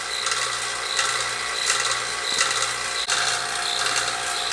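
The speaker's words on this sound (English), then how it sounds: "we can go ahead and shut off the vacuum pump" A vacuum pump hooked up during an R134a air-conditioning recharge on a 2005 Town & Country runs steadily nearby, a continuous mechanical drone with a faint rhythmic rattle and hiss and no talking.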